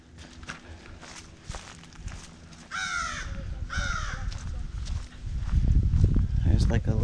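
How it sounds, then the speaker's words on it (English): Crows caw loudly in two harsh bursts at a Florida state park, amid footsteps and people talking, with rustling and louder low rumble building toward the end. "You can hear the birds are very vocal here"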